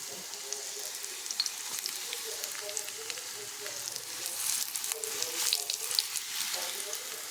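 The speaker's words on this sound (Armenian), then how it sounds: "Միջև որ սմբուկը կտապակվի" Eggplant fries in vegetable oil in a pan with a quiet, continuous sizzle and crackle that holds steady throughout.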